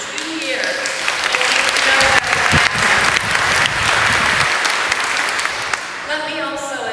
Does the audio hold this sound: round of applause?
yes